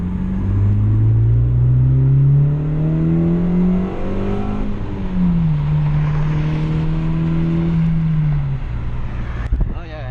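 A 2012 Honda Fit with a Beatrush engine mount and Spoon rigid collars accelerates from inside the cabin, the engine note climbing steadily through a long pull, dipping at a shift, then rising again, loud and close.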